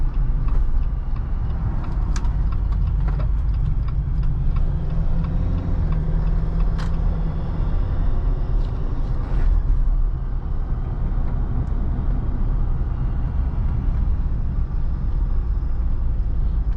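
A 2021 Jeep Wrangler Rubicon drives steadily with a loud, continuous low road and engine rumble and broadband tire noise, slowing slightly as it turns into a residential neighborhood, with no talking.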